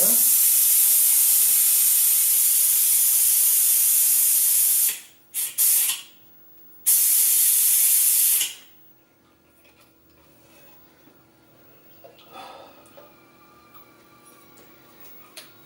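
Brake fluid is sucked out of a motorcycle's rear brake lines into a container, a loud steady suction hiss that cuts off, sputters briefly, resumes and then stops, leaving quiet handling noises.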